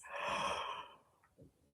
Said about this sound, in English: Pretend yawn, it works.